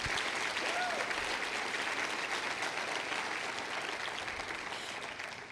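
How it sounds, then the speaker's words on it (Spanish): A church congregation breaks into loud, sustained applause during a sermon, a dense wall of clapping that holds steady for several seconds before easing slightly at the end, with a voice briefly audible beneath it. "Démosle ese aplauso a Jesús."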